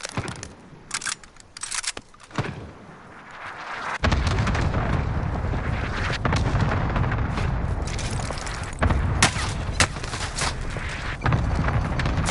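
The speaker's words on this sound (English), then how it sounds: "Allied mortar strike arriving." Allied mortar strike shells land in Call of Duty Warzone, a series of loud, deep booms and cracking blasts after a short stretch of scattered sharp impacts, merging into sustained rumbling barrage.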